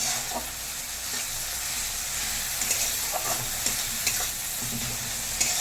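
Onion and tomato masala fries in a pan with a steady hiss while a utensil stirs and scrapes in irregular close knocks, busy and continuous.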